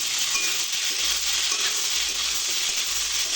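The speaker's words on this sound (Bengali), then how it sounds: "এই তেলের মধ্যে আমি এখন ফুলকপি আর মাটির আলুটা দিয়ে ভালো করে কষে নেব" Cauliflower and yam stir-fry in hot oil with a dense, even sizzle and hiss, steady and close, with soft stirring scrapes underneath and no voices.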